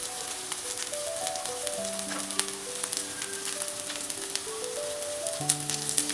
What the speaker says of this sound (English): I'll be flipping over on the tikkis on the other side. Our intention is not to deep fry, it's just making crisp on both the sides.